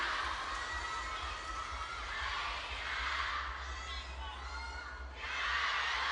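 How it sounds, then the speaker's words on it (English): A sellout crowd at a women's singles table tennis match between Sun Yingsha and Kuai Man cheers loudly and continuously, with shouting voices rising and falling in waves throughout. "Listen to the crowd."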